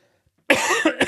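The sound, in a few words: cough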